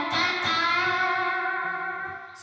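An overdriven electric guitar sustains a chord from a Stratocaster with a single humbucker wired in parallel, bright and distorted, ringing out and slowly fading without speech.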